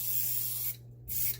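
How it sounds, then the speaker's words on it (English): Dip activator sprayed generously over a hydro dipping film at home, two steady hissing bursts with a short pause between, close and loud, with a low constant hum underneath. "You just want to spray it sort of generously."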